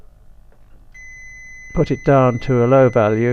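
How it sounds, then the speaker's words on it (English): A steady high electronic tone from a radio-controlled servo linking to its transmitter, continuing as someone speaks over it at close range. "hear the beep, which indicates that now the servo is connected to the radio control"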